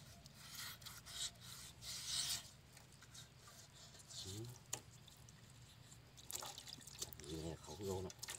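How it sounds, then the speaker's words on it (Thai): Walking-tractor parts are washed and cleaned with water, giving soft rubbing, dripping and splashing at close range, with someone speaking intermittently over it. "แล้วก็ล้างทำความสะอาดนะคะ"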